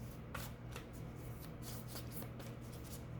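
A deck of oracle cards is shuffled by hand during a tarot-style reading, soft rapid riffling and sliding bursts repeating in quick rhythm, quiet and close with no talking.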